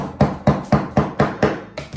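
A small hammer lightly taps a steam tap part back into its housing on a La Pavoni Europiccola espresso machine: seven sharp, close metallic knocks in an even rhythm, alone.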